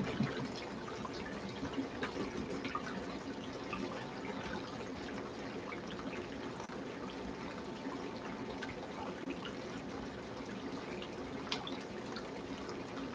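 A pump-fed water supply trickles and dribbles steadily at low level, a faint, even flow with no voices.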